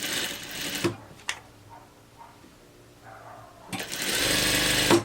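A sewing machine runs in two loud bursts stitching a narrow side hem on a dress, separated by a quieter pause with a few faint knocks, close and without speech.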